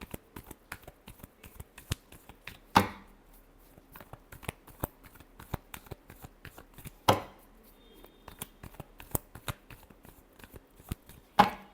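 Tarot cards are shuffled in a steady series of crisp, close riffles and taps, with a few louder snaps of the deck at intervals.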